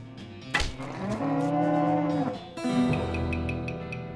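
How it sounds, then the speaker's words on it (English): A floating cow skull enemy in the West of Loathing video game lets out a long, loud, sustained moo, followed by a second drawn-out bellow over faint game sounds. "So you defeat that nasty cow skull floating around a cloud of flame."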